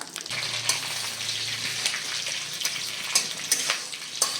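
Whole green chillies, washed and split, dropped into hot oil in a home kitchen, giving a steady bright sizzle and crackle with occasional sharper pops, close and continuous throughout.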